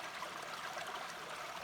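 Water from a stream flows on a hiking trail with a steady, soft, even rush, faint and continuous, and no voices heard.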